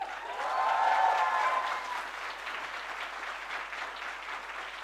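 New students at the MICA Ahmedabad orientation session clap together in a steady round of applause that swells in the first seconds, then settles into a continuous even patter, with a brief tone at the start.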